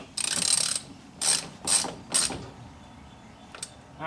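A ratchet snugs down the side-post battery terminals on a Club Car golf cart, clicking in four quick bursts and then one brief final burst, close up with no talking.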